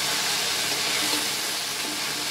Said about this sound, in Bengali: কুদরি ভাজা হচ্ছে